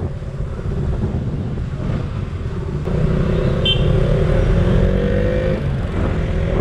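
A KTM Duke 200 motorcycle engine drones steadily while riding on a road, with wind rush and a slight rise in level midway; no voices.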